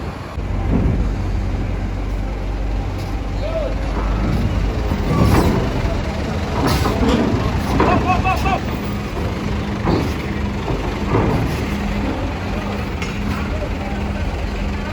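Buses idle and rumble aboard a ferry at Merak port, a deep, continuous engine drone with hissing bursts and clanks, while people talk nearby over the vehicle noise.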